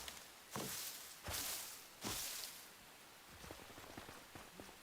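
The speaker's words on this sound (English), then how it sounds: "It's been raining a lot in Enshrouded today" Rain falls in the video game Enshrouded, a soft steady patter on surfaces with a few louder swooshing bursts early on and light footstep-like taps, faint and without talk.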